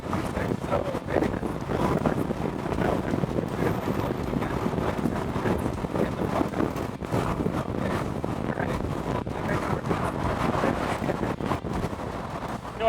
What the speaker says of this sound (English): I'm getting less wind on me at this speed than when we're doing city speeds